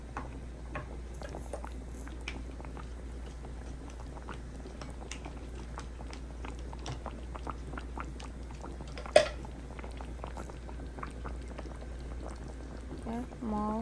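Coconut curry chicken simmering in a pan gives a steady, quiet bubbling and sizzle with small pops and ticks throughout, plus one sharp clink near the end, with no talking.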